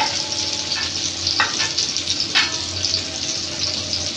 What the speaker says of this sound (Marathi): आता ही साईड आपल्याला तळून घ्यायची, खालची साईड तळून घ्यायची.